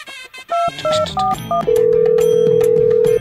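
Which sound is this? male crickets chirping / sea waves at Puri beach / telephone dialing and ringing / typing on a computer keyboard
telephone dialing and ringing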